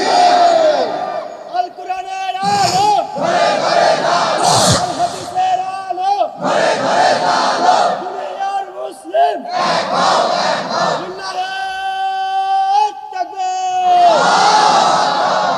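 A large crowd at an outdoor Bangla Islamic sermon gathering roars back a loud, massed chant in repeated bursts, answering a preacher's Nara-e-Takbir call, with the chorus swelling and fading several times.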